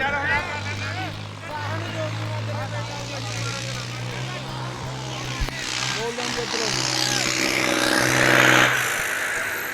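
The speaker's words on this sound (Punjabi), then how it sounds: "ਉਹ ਟਰੈਕਟਰ ਆ ਗਿਆ" A tractor arriving at a village trolley-pulling contest in Punjab, its engine droning steadily and growing louder near the end amid a noisy crowd, with people talking and chanting over it throughout.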